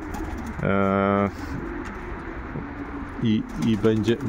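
Pigeons cooing close by in a loft, one long clear coo followed later by a few shorter coos, over faint background noise.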